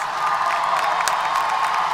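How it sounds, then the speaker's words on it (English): A commencement audience at a university graduation ceremony applauds and cheers, a steady crowd roar of clapping with scattered whoops, heard from within a large hall. "Let's give her a round of applause."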